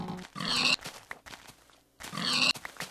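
Pigs in the video game Minecraft grunt twice in short, close oinking bursts separated by a brief pause, with no talk over them.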